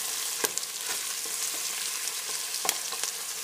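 Onions and garlic cooking gently in olive oil give a steady, soft sizzle with a few brief stirring clicks, close and continuous with no voices.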